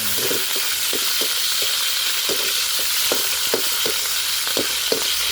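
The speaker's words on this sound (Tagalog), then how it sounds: "Gisahin natin itong ingredients natin. Gisahin lang natin ng konti yan" Onion and other ingredients sauté in hot oil for chicken breast with broccoli, a steady loud sizzle broken by regular scraping stirs of a utensil in the pan.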